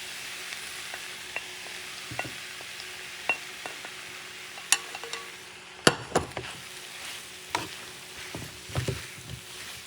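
Mojo butter spooned onto crabmeat-stuffed catfish sizzles softly and steadily, broken by sharp utensil clinks and taps at irregular moments, with no one speaking.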